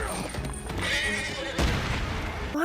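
A horse whinnies loudly as it is cut down in an anime battle scene, amid dense, chaotic noise with booming impacts, close and intense.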